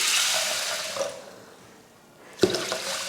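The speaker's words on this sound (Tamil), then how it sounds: "நல்லா முங்குற அளவுக்கு தண்ணி ஊற்றிக்கணும்" Water pours and splashes into a pressure cooker holding 250 grams of washed cowpeas, loud at first and tapering off, followed by a brief clatter and more trickling.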